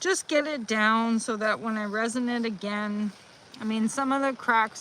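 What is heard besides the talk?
No everyday noise stands out behind the speech.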